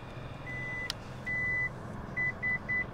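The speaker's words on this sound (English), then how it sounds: "When you hear the beeps, let go of the button, and it will fold and tumble forward" A Lexus LX 600 power second-row seat gives a series of short electronic beeps as it folds, one longer tone followed by three quick chirps, clear over a low background hum.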